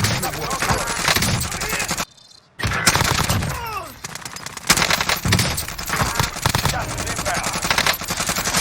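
Rapid automatic gunfire from a Call of Duty video game comes in dense, loud bursts that fill nearly the whole stretch, broken by a brief silent gap, with a faint voice mixed in.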